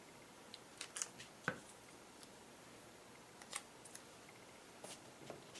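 Scissors snipping the folded paper corners on a dollar-store foam board, heard as a few faint, sparse clicks and snips over a quiet background.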